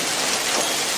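Hail pelts down over the town of Rio Pardo, a dense, loud hiss of constant impacts with no break and no voices.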